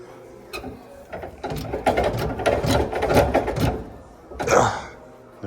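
A hand crank mechanism is turned in a series of rapid clattering mechanical clicks and gear rattles, loud and close, with a final louder burst of ratcheting near the end.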